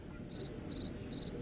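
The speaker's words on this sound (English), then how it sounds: "crickets." Crickets chirp as a sound effect in three short, evenly spaced trilled bursts, high and clear over a faint low background hum.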